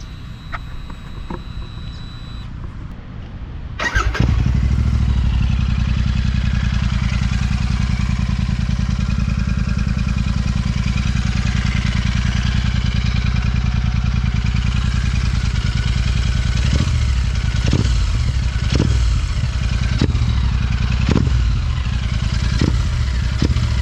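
Royal Enfield Super Meteor 650 fitted with a Red Rooster aftermarket exhaust starts up and settles into a loud, steady, bassy idle, with a few sharp throttle blips near the end.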